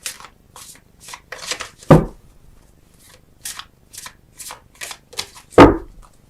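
Tarot cards shuffled by hand: a run of crisp riffling and flicking bursts, with two louder slaps as the deck is tapped or set down, close and alone.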